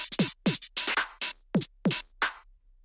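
Chopped drum loop groove rearranged from slices in FL Studio's Slice X for a UK garage track: a short, swinging sequence of punchy kicks and crisp snare hits with brief gaps, close and alone.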